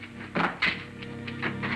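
Guns thrown to the ground land in two dull thuds close together, followed by a few fainter knocks, in a 1951 Western TV scene.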